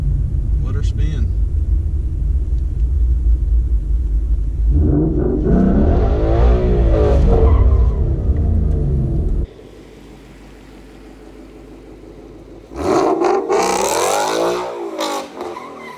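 A manual stick-shift car on a wet road revs hard and spins a 180, with a loud, sustained engine roar that cuts out, then a short, sharp burst of revving and tire noise near the end.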